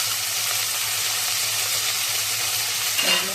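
Rice with turmeric fries in a pan as a steady, close, bright sizzle that runs throughout, with a brief stir or clink near the end and no talk.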